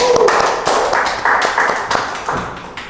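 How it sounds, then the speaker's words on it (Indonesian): A few scattered hand claps for Kak Rahmi, a campus ambassador, sounding as sparse taps and thuds from a small group rather than full applause, close and fairly loud. "Tepuk tangan dulu dong buat Kak Rahmi."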